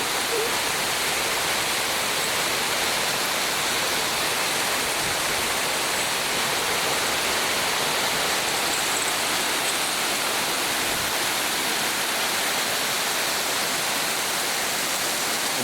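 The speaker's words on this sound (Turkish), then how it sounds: "Çok şiddetli bir şekilde yağmur yağıyor şu an." Dense, unbroken rushing hiss of a downpour in Antalya, Turkey, loud and constant throughout, like heavy rain pounding nearby with nothing else heard.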